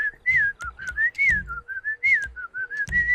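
A person whistles a wavering, sliding melody in short phrases, close and fairly loud, over a low background rumble.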